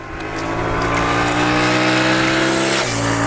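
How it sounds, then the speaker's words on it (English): A Royal Enfield Super Meteor 650 motorcycle engine revs up smoothly and loudly at close range, its tone climbing steadily before dropping briefly as if shifting gear, with no other sounds. "Just get on the gas and see the engine spin up so smoothly, without any juddering."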